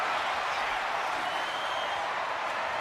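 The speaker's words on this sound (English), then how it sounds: "Listen to this crowd." Dense, steady arena crowd roar and cheering from the WWE 2K25 wrestling video game during a Hell in a Cell match, a continuous broadband wash at constant loudness with no talk over it.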